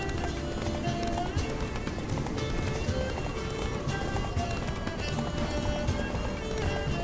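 Horse hooves pound in a rapid, steady galloping rhythm without pause in The Witcher 3, surrounded by a dense layer of music and ambient game sound.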